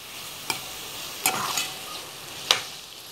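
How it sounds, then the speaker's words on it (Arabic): Liver sizzles in a pan with onion and garlic powder, a soft steady frying hiss broken by a few sharp spits and pops, heard alone with no talk. "وهسيبهم بقى كده شويه لغايه اما الكبده تطيب"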